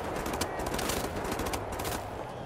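Rapid automatic gunfire from a weapon in Wolfenstein: The New Order, a dense, loud, continuous volley of close shots lasting the whole moment with no speech over it.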